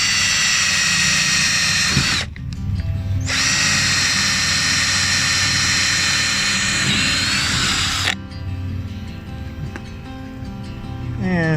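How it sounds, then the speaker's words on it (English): A power drill whines loudly and steadily while boring straight down through PVC pipe, pausing briefly once, then winding down to a lower hum at the end. "Gonna drill straight down through."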